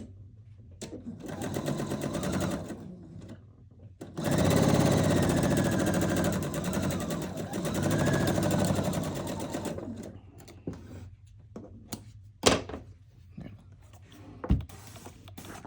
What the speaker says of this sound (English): then you're going to start sewing. 1/4 inch seam.